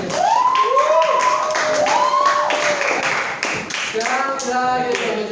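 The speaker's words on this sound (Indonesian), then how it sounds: "Ya, tepuk tangan untuk kita sendiri." Classroom participants in a teacher-training session clap for themselves, with scattered, uneven handclaps alongside loud rising and falling whistle-like tones that sweep across the first half.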